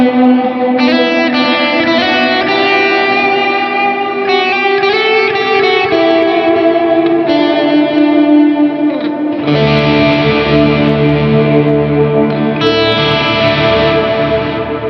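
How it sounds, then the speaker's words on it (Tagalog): An electric guitar runs through an M-vave MK-300 effects unit with reverb, ringing sustained chords and melodic lines, loud and washed in echo, with a darker, fuller tone in the second half and no talk. "Mag-add ka ulit ng reverb kay Black Box."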